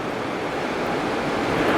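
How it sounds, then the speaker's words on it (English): Ocean waves seen from a house on Siargao, Philippines give a steady, broad, rushing wash, moderately loud and continuous, with no voices. "Just looking out the living room window at these waves."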